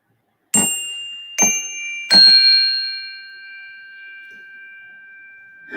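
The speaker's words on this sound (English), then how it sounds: "That was my favorite wind chime." Three struck wind chime tones ring out in quick succession during a quiet meditation, each a bright metallic strike with long sustained overtones that slowly fade into silence, alone with no talk.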